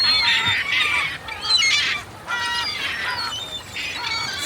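Seagulls being fed bread in a Norwegian harbour town call out in a cluster of loud, harsh squawks and cries, several birds overlapping in bursts with short pauses between.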